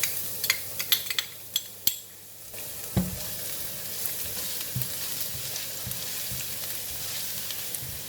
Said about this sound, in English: Oil is hot. Now I'm putting in the garlic.